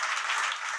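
A church congregation applauding during a worship service, dense steady clapping throughout a very short stretch at moderate volume.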